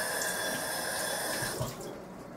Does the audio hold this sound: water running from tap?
yes